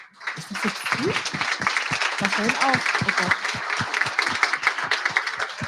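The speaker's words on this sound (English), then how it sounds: "big applause again for the Tomorrow team" Evening event guests clap for the Tomorrow team, a dense run of applause running throughout beneath a person talking over it.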